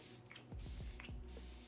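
Too Faced Hangover Replenishing Mist facial spray gives a few short, faint hissing pumps from its sprayer, close by in a quiet room.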